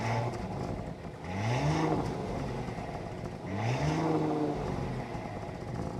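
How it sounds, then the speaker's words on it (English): A 2025 Audi Q7 Premium Plus engine starting and revving, two rising blips of moderate-volume exhaust note over a steady idle, heard from fairly close without talk. "start it up so you can hear that exhaust note"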